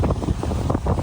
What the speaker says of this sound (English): it's windy, it's really windy